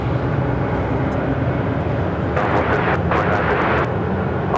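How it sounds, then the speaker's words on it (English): An aircraft taking off from the runway at Phoenix airport, a steady loud engine roar with rushing broadband noise and brief clicking bursts toward the end. "Second time today we've seen this aircraft take off."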